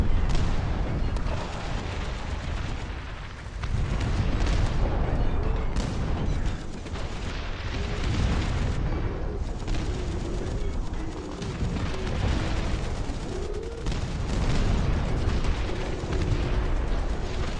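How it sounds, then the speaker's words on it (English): Howitzer artillery fire booms continuously in a video game, a dense, loud barrage of overlapping blasts and rumbles that fills the whole stretch without a break, with no talking. "The howitzers with support are just the beast."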